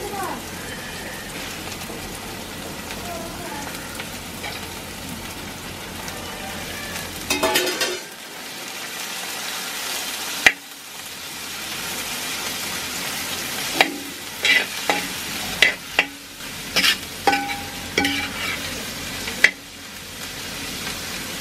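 Chopped ginger, garlic, green chilli and onion sizzle in a pan for a beef and raw banana curry, a steady frying hiss with clicks of stirring and sharp scrapes scattered through, fairly close.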